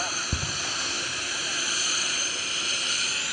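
An aerobatic jet-powered airplane at the 2013 Greenwood Lake Airshow pops its afterburner in one short, deep thump, followed by a steady, distant roar of engine noise and outdoor air.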